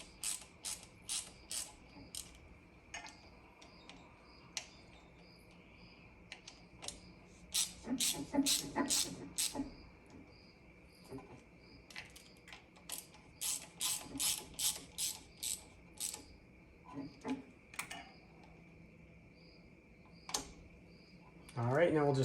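A ratchet turning a bit on the rear brake caliper bolts of a 2014-2020 Jeep Cherokee clicks in quick bursts of rapid ticks, with pauses between sets and a few metallic clunks nearby.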